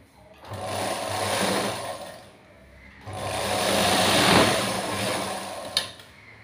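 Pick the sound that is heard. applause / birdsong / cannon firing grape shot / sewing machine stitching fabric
sewing machine stitching fabric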